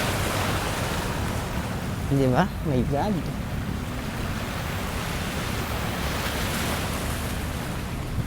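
Strong sea waves crash against the rocks along the shore of Manila Bay, a constant heavy roar of surf and wind noise, with a brief exclaiming voice midway.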